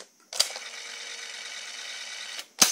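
A cassette tape being pushed into a ZX81 data recorder gives a sharp mechanical click, then a steady whirring hum for about two seconds and a second clunk as it settles, close up with no talking.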